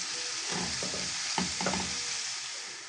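Grated carrot for eggplant caviar is stirred and fried in a pan, giving a steady close sizzle broken by short bursts of spatula scraping around the middle.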